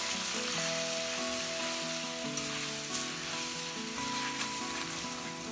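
Cooked beef mixture sizzles steadily in hot oil or ghee in a pan, a close, continuous frying hiss with faint stirring scrapes and a low tonal hum running underneath.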